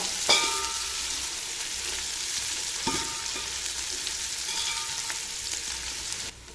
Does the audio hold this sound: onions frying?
yes